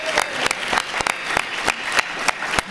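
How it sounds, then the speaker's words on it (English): An audience at a live show at Celebration Orlando 2017 claps in a loose, fairly sparse burst, with individual sharp claps standing out in an uneven rhythm for a few seconds. "Everybody give Smitty a round of applause."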